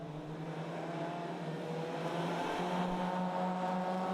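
Rallycross cars race in a British Rallycross Championship round, their engines making a steady, moderately distant drone with a rising pitch under acceleration, and no distinct tyre lock-up or braking squeal.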